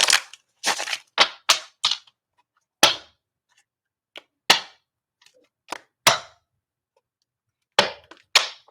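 Tarot cards shuffled by hand give a series of sharp, crisp slapping bursts in irregular clusters, some quick in succession and some spaced by short pauses, close and fairly loud with no talking.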